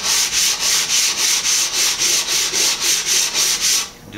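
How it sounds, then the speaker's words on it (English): A sanding block rubs back and forth on kantele wood by hand in steady, rhythmic rasping strokes, about eight in a row, close and loud, before stopping. "to take a block of wood, a square block of wood, so that you're not sanding in little dips"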